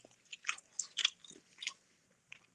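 Close, quiet chewing of a piece of Yoshinoya beef, soft wet bites and crunchy mastication in uneven bursts with no talking.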